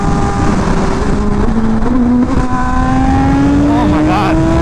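Honda CBR Fireblade RRR SP motorcycle engine revving up, a loud, raspy scream whose pitch climbs steadily across the whole stretch, heard up close.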